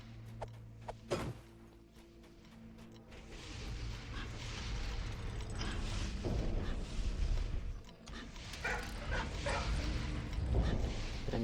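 A dog barks repeatedly in Dungeons & Dragons Online's Iron Mines, sharp yips and woofs mixed with rumbling combat and ambient game noise over several seconds.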